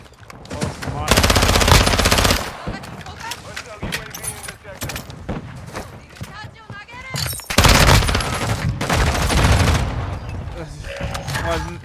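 Rapid machine gun bursts from the video game Call of Duty Modern Warfare II, loud and close, arriving in dense volleys with shorter shots and clatter between them, and a voice speaking over the gunfire.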